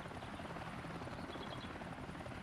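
Steady, dense rotor drone of a helicopter in the survival game 7 Days to Die, loud and constant throughout with no voices.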